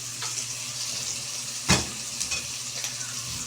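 Garlic, tomato and boiled meat sautéing in a pan, a steady close sizzle with a few scraping stirs and one sharper clatter midway.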